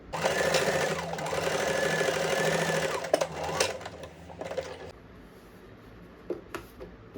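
A sewing machine stitches tucks on a deep-neck blouse, whirring steadily and close for about five seconds before stopping, with a few light clicks afterward.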